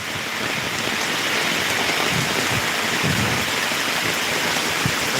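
Steady rain pours down in Dhotian village, a dense, continuous hiss of drops on surfaces, close and even throughout with no pauses.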